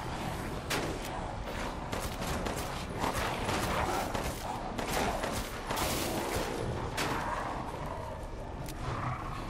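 Rapid gunfire in the VR horror game Resident Evil Village, dense bursts of shots crackling continuously and loudly with game effects, no talk.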